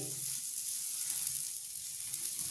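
A paratha cooks on a hot iron griddle, giving a soft, even sizzle that hisses continuously at close range and moderate volume, with no voices over it.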